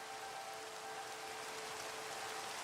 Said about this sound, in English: it's raining on Mindcrack.